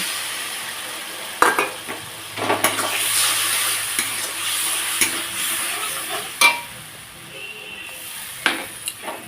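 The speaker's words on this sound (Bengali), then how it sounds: "একটু হলুদ গুঁড়ো সব কিছু দিয়ে ভালোভাবে কষিয়ে নিয়েছি দিয়ে দেবো পরিমাণ মতো অল্প জল" Water added to spices sautéed with turmeric powder in a pan, a steady close sizzle broken by repeated sharp knocks and scrapes of a spoon stirring against the pan, with no voice.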